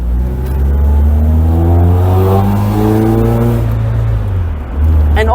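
A 1996 Mercedes-Benz SLK 230 Kompressor with a Borla exhaust accelerating under load, loud close engine drone rising through a gear with a brief dip near the end.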